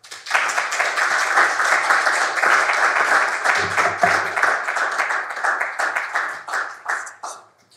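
Audience applause after an architecture talk, a dense, sustained burst of clapping from many hands that starts abruptly, stays loud for several seconds and then thins and tapers off.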